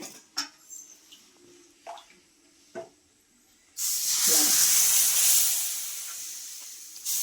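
Rice flour batter poured onto a hot pan: after a few faint clinks, a loud sustained sizzling hiss bursts in midway and holds steady, slowly easing toward the end, with no voices.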